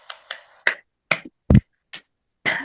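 Several separate hand claps after a group meditation session, sparse and spaced out, each one sharp and brief with silence between them, as if only a few participants are clapping.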